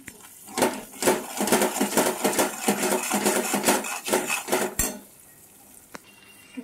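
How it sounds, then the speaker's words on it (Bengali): Spice masala being stirred and sautéed in a wok (kadai) for a spicy fish curry, with steady scraping and clinking of a utensil against the metal pan for about five seconds before stopping, followed by a single faint clink. "সমস্ত মশলা দিয়ে দিয়েছি, এবার কষিয়ে নেব।"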